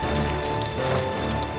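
Horses' hooves clip-clopping as an army of men and horses marches two by two down a narrow valley path, a dense, continuous clatter of many hooves under a constant rumble.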